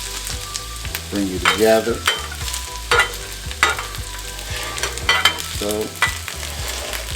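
Food frying and being stirred in a pan while making a Denny's-style Super Slam breakfast at home, with repeated scraping strokes over a steady sizzle and a person talking briefly.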